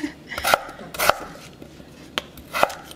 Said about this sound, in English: I give it a quick chop